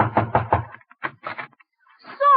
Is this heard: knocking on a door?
yes